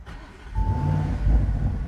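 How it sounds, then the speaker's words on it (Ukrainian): A 2023 Audi SQ8 with a 4-litre, 500-horsepower engine fires up with a short starter burst and settles into a deep, close idle rumble, alone with no talk. "Попробуємо завести двигун."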